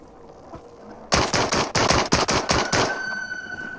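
A rapid burst of about ten loud gunshots from the VR video game Into the Radius, fired in quick succession after a quiet lead-in, then a fading metallic ring and hum.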